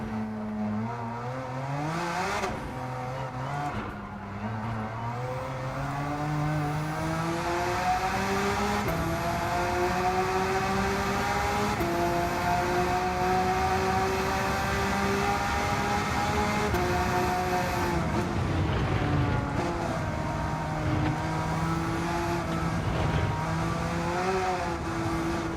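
A Gr.3 race car in Gran Turismo 7 revs hard through its gears at a seaside circuit. The engine note is loud and steady, climbing and dropping with each shift, and tire squeal joins it near the end.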